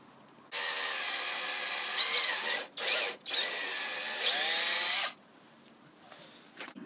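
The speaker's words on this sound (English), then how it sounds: "To drill a hole right here." Up close, a power drill runs to bore a hole behind a scooter's trigger in a homemade electric scooter build, a steady whine of several seconds broken by two brief stops, then it winds down.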